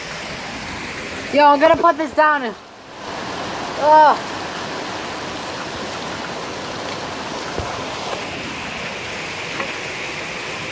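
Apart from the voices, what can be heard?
heavy rain pouring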